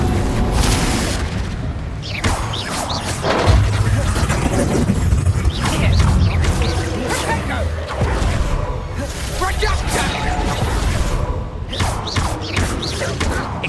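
Confringo blast spells explode during a Hogwarts Legacy duel, with repeated booming thuds and crashes mixed into a dense game soundtrack. A character's voice and battle shouts run over most of it.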